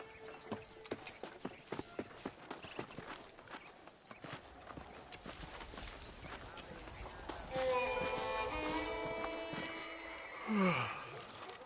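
Horse hooves clip-clop in a steady rhythm in Red Dead Redemption on PS4, moderately close, first as scattered beats that then run together under music and other game sounds.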